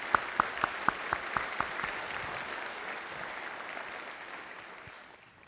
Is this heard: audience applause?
yes